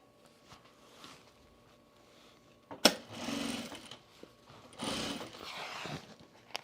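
A sewing machine stitches a stiff boxy bag in short mechanical bursts separated by quiet pauses, moderately close.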